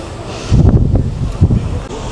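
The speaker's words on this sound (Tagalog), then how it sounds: "Ang hangin." Wind buffets an open mountain view deck near the Maokong Gondola in Taipei, with gusty rumbling bursts of microphone wind noise and no speech.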